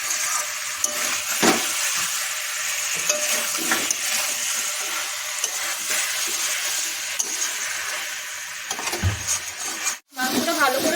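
Chicken curry meat sizzles and crackles steadily as it is sautéed in oil in a pan, a continuous frying hiss with occasional scrapes of a stirring utensil.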